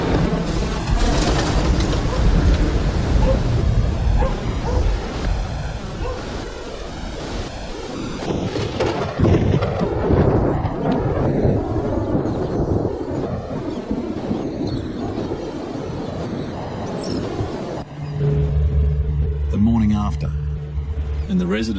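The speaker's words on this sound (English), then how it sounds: "At 9 p.m., Cyclone Ida makes landfall. The wind tears through town." Cyclone winds roaring through a coastal town at landfall, a loud continuous rushing storm with gusting surges, and a narrator speaks over it near the end.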